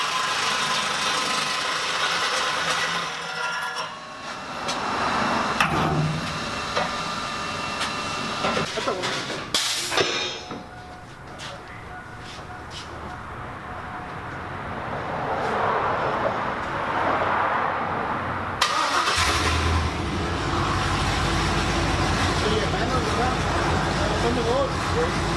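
A truck engine with a new Borla exhaust runs with a steady, breathy hiss and rumble that swells in level toward the end, while voices talk intermittently nearby.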